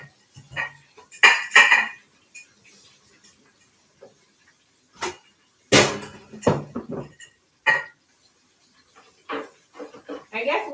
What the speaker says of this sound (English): we're going to rinse this out.